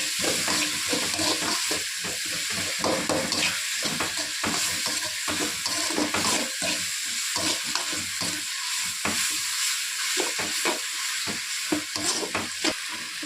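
Ginger-garlic paste frying in a pan for macaroni pasta, with a steady crackling sizzle and repeated scraping stirs throughout, close and fairly loud with no voices.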